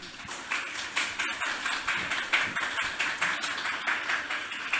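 An audience at a literary reading by authors Claire Adams and Alexia Arthurs claps steadily, a dense, even patter of many hands filling the room without pause and with no talk over it.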